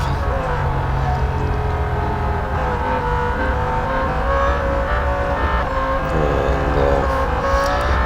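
A Lamborghini Huracán race car engine in Real Racing 3 drones loudly and continuously at high revs during a lap, with shifting pitch and gear changes, up close and without talk.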